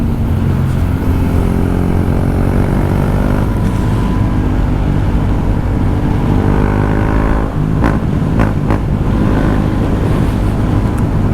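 A KTM 390 Duke motorcycle engine roars loud and close, its steady drone shifting pitch as the rider drops back to fourth gear, with a few sharp blips near the end and wind rush throughout.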